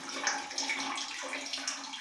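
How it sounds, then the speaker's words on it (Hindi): Water running steadily from the tap of an instant geyser under repair at home, a continuous hissing splash at moderate level with no talking. "पानी का फ्लो मुझे अभी ठीक लग रहा है"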